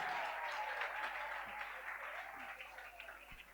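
A church congregation applauds together during a staged performance, a dense wash of clapping that slowly eases off, with a voice faintly audible underneath.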